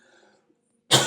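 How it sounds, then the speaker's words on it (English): A single loud, close cough bursts out after near silence and faint murmur, harsh and breathy, from someone with a dry throat. "Sorry, I have to cough."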